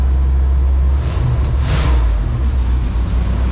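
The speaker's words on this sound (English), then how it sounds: "revs right up, drops down off the fast idle. Just nice and smooth." A 454 big block truck engine runs loud and close, a deep rumble that swells briefly as it revs and then settles back toward a smooth idle.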